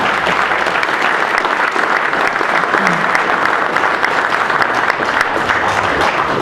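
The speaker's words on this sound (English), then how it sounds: "a nice round of applause for those guys again as they make their way out" A large crowd at a company summer meeting applauds loudly and steadily throughout, a dense wash of clapping with no break.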